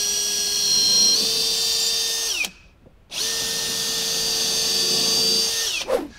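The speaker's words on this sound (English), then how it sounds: "we're just going to pre-drill it all" A power drill pre-drills holes in a Connex storage cube unit: two long, steady, loud whines with a short pause between them, each spinning down at the end. No talking.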